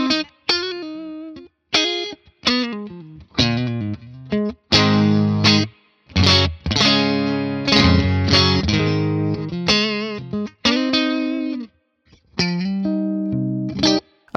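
An electric guitar with a humbucker plays through a Neural DSP amp plugin with the reverb turned up. Clean sustained chords and single notes come in phrases separated by short pauses, each ringing out in a lush reverb tail.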